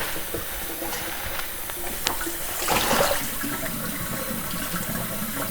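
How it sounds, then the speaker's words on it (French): Collard green leaves are rinsed under a running kitchen tap, a continuous splashing rush of water with a brief louder surge midway, close and alone without talk. "Et je les fais passer sous l'eau du robinet comme ça pour m'assurer que j'ai bien enlevé tous les sables."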